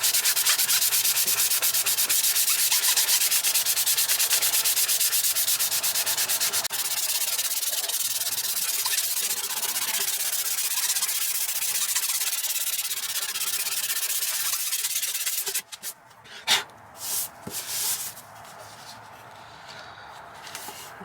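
An interior trim panel is hand sanded with abrasive paper, a loud, continuous, rapid back-and-forth rasp close to the mic for about fifteen seconds, then a few scattered rubs and handling noises.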